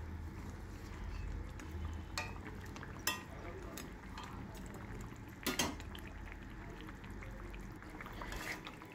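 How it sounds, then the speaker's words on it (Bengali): Vegetables simmering in a cooking pot with fish for a papaya curry, stirred with a utensil: a soft steady bubbling bed with a few sharp clinks and scrapes against the pot, close by, with no talking. "তো ঢাকনাটা খুলে এবারে সবজিগুলো নেড়ে আমি মাছগুলো এবার দিয়ে দেবো।"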